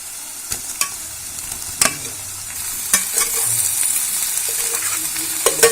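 Masala-coated soya chunks frying with softened onions in a pan, a steady close sizzle broken by sharp scraping stir strokes, louder in the second half.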